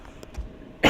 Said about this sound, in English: I'm really sorry if I'm coughing in my videos because I'm still down with a cough